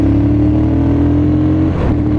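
A MASH Five Hundred motorcycle engine runs loudly and close with a steady, throaty hum that rises slightly before dipping near the end, heard alone without talking.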